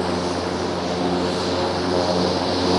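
An MQ-9 Reaper drone aircraft flies by with a steady, loud propeller-engine drone and a strong tonal hum, holding constant for the full stretch with no voices.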